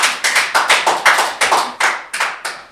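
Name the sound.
applause in a council committee room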